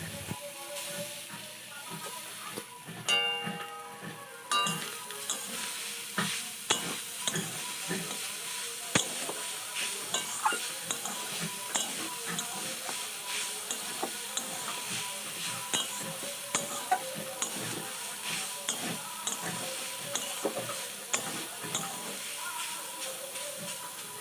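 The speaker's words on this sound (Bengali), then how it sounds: "শুকনো কড়াইয়ের মধ্যে নারকেল কোড়াগুলো দিয়ে ভালো করে একটু ভেজে নেবো" Grated coconut dry-roasts in a dry wok, a faint continuous hiss broken by frequent light scraping and stirring strokes at a fairly even pace, close and quiet, with a person briefly speaking at the start.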